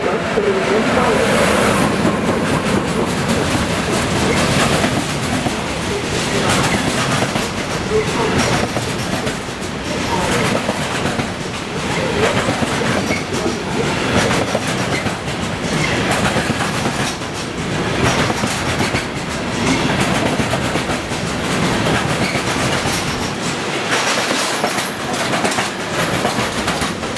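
Trains running through Bremen Hauptbahnhof, a busy German main station, with steady loud rolling rumble and clickety-clack of wheels over track joints filling the whole stretch, platform ambience and faint voices mixed underneath.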